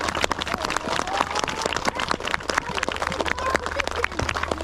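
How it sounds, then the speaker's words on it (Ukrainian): A crowd claps at an under-9 youth football cup awards ceremony, a dense, steady patter of many hands that stays at an even level for several seconds. "давайте ще гучніші оплески для Збройних сил України"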